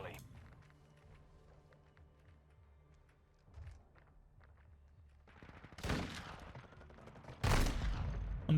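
Shotgun blasts and gunfire in the video game Modern Warfare 2 Beta erupt as loud, broad bursts near the end, following quieter in-game footsteps and background game sounds.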